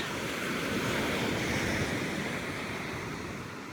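Surf rolling onto Costa Mujeres Beach near Cancun, Mexico, a steady, loud wash of breaking waves with some wind rumble on the microphone, continuous throughout without voices.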